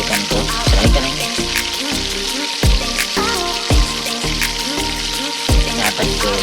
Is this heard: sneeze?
no